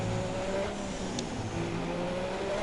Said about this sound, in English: We're on board with Grosjean now, car full song.